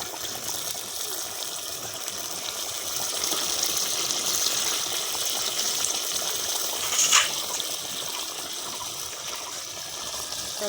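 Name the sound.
water being added to country chicken curry while cooking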